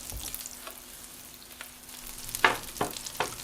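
Mushrooms, onion and garlic fry in butter and olive oil with a soft, steady sizzle close by. A few sharp utensil clinks break through near the end.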